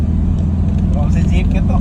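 A jeepney engine rumbles steadily amid road traffic, heard close under continuous talking.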